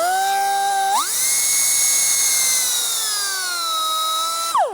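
A Matco pneumatic die grinder with an internal regulator runs alone at high speed. It gives a loud, steady whine that jumps up in pitch when it starts, sags slightly while held, then winds down at the end.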